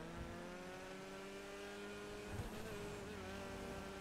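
Karin 190Z race car in GTA 5 Online with a steady, close engine drone that pulls slightly higher toward the end, running alone with no talk.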